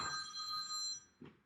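A phone rings with a bright, tonal electronic trill for about a second, stops, then gives a brief second burst, faint and alone.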